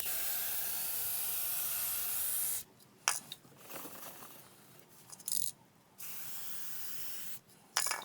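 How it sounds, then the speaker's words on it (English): Several short bursts of Maxima chain wax aerosol spray hiss up close onto a motorcycle chain, separated by brief pauses, with faint handling noises between them. "the Maxima Chain Wax seems to stick and not fling off like the others I've used"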